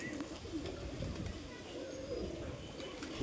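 Soft, low cooing of young pigeons repeats quietly against a faint background hum, with a few brief higher chirps.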